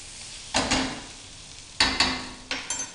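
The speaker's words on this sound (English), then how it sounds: "just let that butter brown off in the pan" Butter browns in a pan alongside salmon fillets, crackling in three loud sizzling surges that flare up and then settle back to a softer, close frying hiss.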